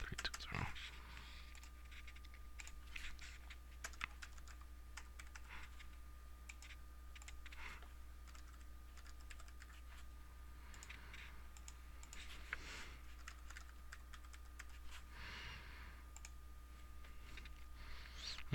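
Numbers keyed into a computer keyboard: rapid clicking keystrokes in uneven bursts, close and fairly quiet over a steady low hum, with no talking.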